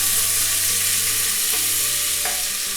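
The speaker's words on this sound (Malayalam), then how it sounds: "സവാള നന്നായിട്ട് വഴറ്റിയെടുക്കാം." Sliced onions sizzling and being stirred in a hot pan, a close, steady frying hiss with a few scraping strokes of a spoon.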